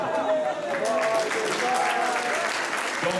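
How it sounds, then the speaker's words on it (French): An indoor audience at the unveiling of the Tour Alsace 2015 poster at Wehr in Lutterbach claps steadily. The dense applause carries loud and even throughout, with faint voices mixed in beneath it. "Donc je vous demande de l'applaudir bien fort"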